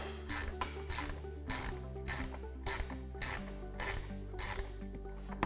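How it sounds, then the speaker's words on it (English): Repeated raspy ratcheting strokes, close and moderately quiet, as a 3/8 wrench tightens a bolt on an RBO front folding windshield being fitted to a Polaris Ranger XP 1000, about seven rhythmic bursts with no talk. "I'm gonna reach right here with the 3/8 wrench on the outside. Tighten this one up."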